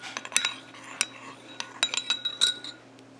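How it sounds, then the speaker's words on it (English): A spoon stirring fragrance drops into melted melt-and-pour soap in a small container, giving quick, light metallic clinks and taps in an irregular rhythm, close and fairly quiet. "Stir that in."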